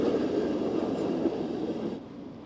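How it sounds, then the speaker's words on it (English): A vintage Detroit tram runs along a San Francisco street, giving a steady low rumble and rattle of wheels on rail that holds at an even level throughout with no voices. "San Francisco collects these old vintage trams from around the world."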